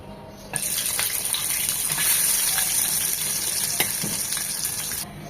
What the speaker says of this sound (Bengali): ওই প্যানের তেলটাই এই প্যানে দিয়ে দিলাম